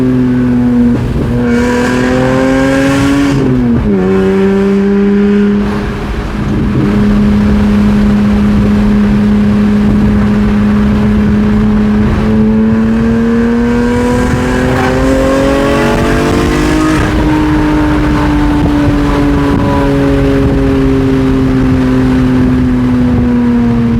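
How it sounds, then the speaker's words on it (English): BMW E46 M3 with a Valvetronic exhaust, loud and close, engine note rising and falling through revs and a sharp downshift blip, then a sustained droning pass that swells and fades. "Hit him with a downshift."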